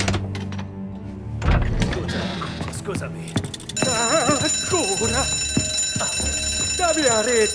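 Alarm bell ringing steadily and loudly inside Mafia: Definitive Edition, a continuous metallic clang that starts partway in and persists with music and game sounds, with voices talking over it.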